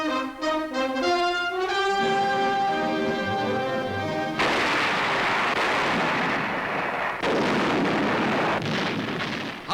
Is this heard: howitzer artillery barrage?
yes